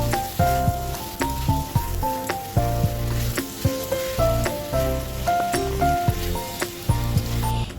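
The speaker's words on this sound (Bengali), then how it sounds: "এখন আলুগুলোও দিয়ে মাংসটা ভালো মতন কষিয়ে নেব আমি।" Pork and fried potatoes stir-fried over a wood fire, a loud crackling sizzle broken by rhythmic metallic scrapes and clanks of a spatula against the pot, close and continuous.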